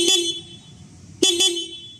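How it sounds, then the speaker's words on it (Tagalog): A secondhand motorcycle's horn sounds with one short beep and then two quick honks, sharp and close against a quiet background. "Check naman natin yung kanyang busina kung gumagana."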